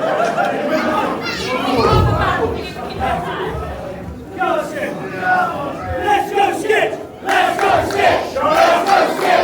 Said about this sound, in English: The crowd are thoroughly behind the Strong Dads